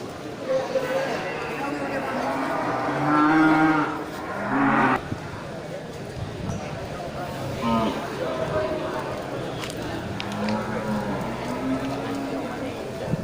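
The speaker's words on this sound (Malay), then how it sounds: "Ya, ini sapi Aceh mini ya," Aceh mini cattle, three head, low mooing at a busy Grogol animal market, a few calls rising over constant crowd chatter and someone talking throughout.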